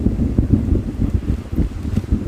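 Strong wind by a large lake about two hours south of San Francisco buffets the microphone in heavy, low, rumbling gusts that pulse unevenly and close up, with no voices.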